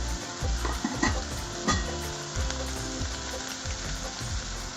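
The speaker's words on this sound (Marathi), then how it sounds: "आता कांदा आपला छान तेलावरती परतून झाला आहे" Chopped onion fries in oil with a little salt, a dense, even sizzle with occasional stirring scrapes, close and moderately loud.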